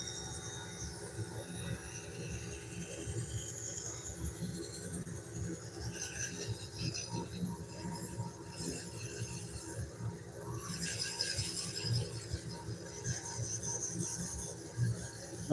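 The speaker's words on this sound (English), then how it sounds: "Get in there and start sanding out the" Abrasive sanding against a juniper bowl spinning on a wood lathe, a faint continuous rasping hiss over the motor's steady hum, unbroken and without talk.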